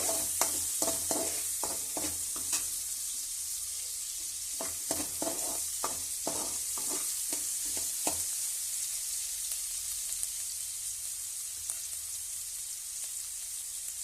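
Chopped onion and chana dal frying in a pan with cumin give a steady hiss of sizzling oil, with a series of quick scraping stirs in the first half before the frying settles into an even sizzle.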